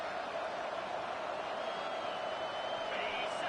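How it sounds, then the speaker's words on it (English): A college football stadium crowd at an Oregon Ducks vs Auburn season opener roars in a steady, full-throated wall of noise that holds unbroken throughout. "This crowd, full throat, splitting the eardrums and letting them know it's going to be a long day"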